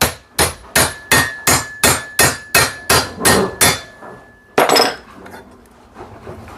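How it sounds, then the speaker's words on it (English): Hammer driving a big flat-blade pry bar into a junk item to wedge it open: about eleven sharp, evenly spaced metallic strikes, close and loud, ending with a looser clank and a rattle as the piece shifts. "And again, the hammer. We're going to drive this in here and wedge it open."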